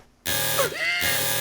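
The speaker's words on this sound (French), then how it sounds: "Alarme activée." A loud, harsh electronic alarm buzzer sounds in a cartoon about a rabbit, blaring continuously after a brief quiet start with a warbling tone sweeping through it.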